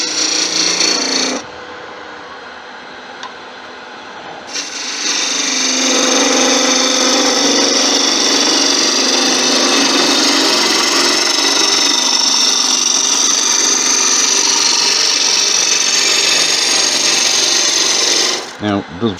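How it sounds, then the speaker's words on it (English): Malaysian acacia sapwood being turned on a lathe with a continental spindle gouge for napkin rings, a steady close rasping scrape that runs for many seconds after a short opening burst, without talk. "My preference is to use the continental spindle gouges because,"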